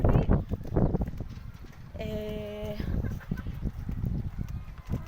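Chickens kept on a rooftop cluck briefly amid background chatter and household noise, with a short, clear clucking call standing out in the middle.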